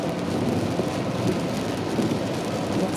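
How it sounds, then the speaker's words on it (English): Steady rain drums on a moving car while the tires hiss along a wet road, forming a loud, continuous wash of noise with no talking. "Let's listen to the rain and the road noises"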